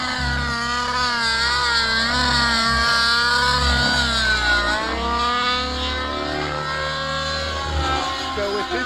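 A gas-powered RC helicopter running a Vbar Evo unit, its small engine droning steadily and loudly close by with the pitch sweeping up and down as the throttle and tail load change.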